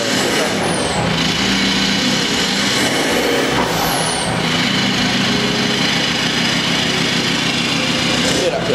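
A loud Ford Ranger T6 pickup engine, converted to F-150 style, roars steadily throughout, up close, with a rising and falling whine riding over the rumble and a voice speaking beneath it.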